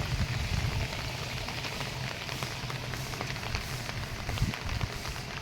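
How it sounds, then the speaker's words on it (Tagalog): Intermittent rain patters steadily on surfaces outdoors in front of a house, a dense crackling hiss with slight swells in intensity, no voices. "Pabugso-bugso ang ulan."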